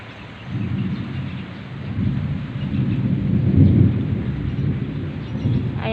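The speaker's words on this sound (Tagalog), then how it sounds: "Kulog, malakas na kulog kasi umulan na po siya." Loud rolling thunder during an afternoon rainstorm, deep rumbles swelling and receding over a steady hiss of falling rain, with no voices.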